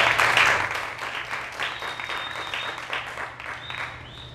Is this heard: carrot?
no